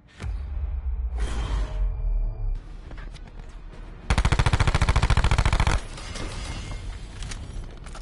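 A gun fires in a video game: a sharp opening shot, then a fast burst of rapid automatic fire in the middle, loud and close, with whooshing game effects around it and no talk.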